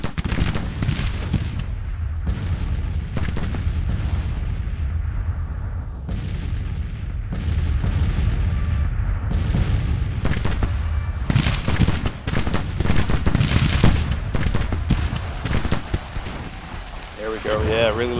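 Booming artillery fire from Grand Tactician: The Civil War rolls in repeated dense blasts and rumbles, loud and continuous across the scene, with someone talking over the battle noise.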